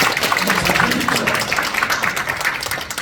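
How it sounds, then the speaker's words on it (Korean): Audience applause at a safety association general meeting, a continuous dense patter of clapping from a crowd at fairly close range, with some voices mixed in. "오늘 고생하시는 박수 좀 쳐주세요"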